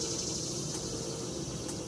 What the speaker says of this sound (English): When Don B speaks, the cicadas listen.